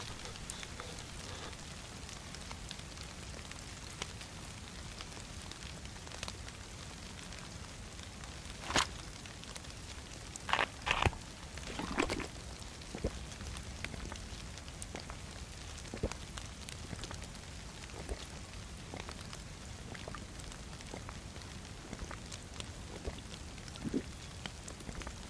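Steady rain falls in DayZ, a soft continuous hiss with scattered brief drips and taps, fairly quiet and even throughout with no talking.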